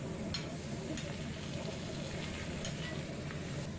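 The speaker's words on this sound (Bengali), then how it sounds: "পেঁয়াজটা ভাজা হয়ে গেছে, এবার আমি এর মধ্যে মাছের মন্ডটা দিয়ে দিচ্ছি।" Fish paste is added to fried onions in a pan for fish cutlets, producing a continuous close sizzle with light stirring scrapes and no talk.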